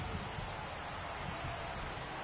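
Steady rain hisses as an even, soft wash over a baseball stadium in MLB The Show, continuous and unbroken with no voices.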